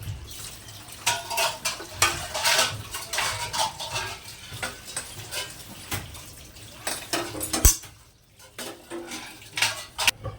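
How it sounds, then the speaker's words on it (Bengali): Soaked paneer cubes and their soaking water are tipped into a pan of cooked spiced masala, producing clattering pan and spoon knocks, wet splashes and brief stirring noises in uneven bursts, with a short lull near the end; no one speaks. "এরপর পনিরগুলো যে জলে ভিজিয়ে রেখেছিলাম, জল শুদ্ধ পনিরটা আমি ঢেলে দেবো এর মধ্যে।"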